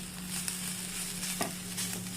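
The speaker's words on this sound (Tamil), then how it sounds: "எண்ணெய் காஞ்சிச்சு, லைட்டாக வெங்காயம் வதக்கிக்கலாம்." Onions sautéing in hot oil in a pan, a soft steady sizzle with occasional scraping strokes of a stirring spoon, fairly quiet and with no voices.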